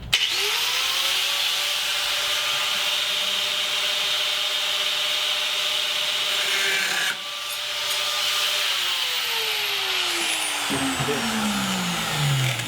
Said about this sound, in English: Cuts pretty good with the angle grinder.